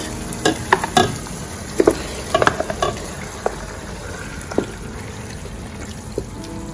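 Marinated mutton frying with soft cooked tomatoes in a pulao pot, stirred with a spoon that scrapes and clatters in irregular bursts over a steady close sizzle; nobody speaks.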